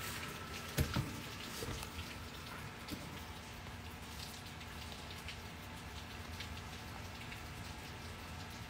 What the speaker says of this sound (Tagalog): kasi nga malakas ang ulan